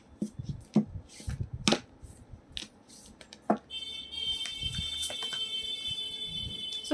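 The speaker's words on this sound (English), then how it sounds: "So I'll be taking a card from here." Kali Oracle deck cards being shuffled by hand, giving brief papery riffles and flicks in short bursts, followed by a steady brighter rustling wash.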